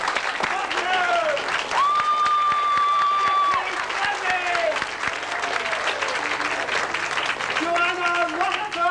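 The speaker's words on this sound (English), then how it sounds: "A special round of applause for the young people." An amateur theatre audience applauds young performers in a dense, sustained round of clapping, with voices calling out and singing over it at times.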